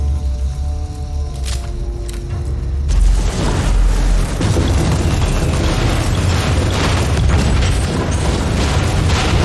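A grenade explosion in Warhammer 40,000: Inquisitor – Prophecy: a loud blast that breaks over quieter game tones and turns into sustained rumbling, crackling debris and mechanical clatter for several seconds.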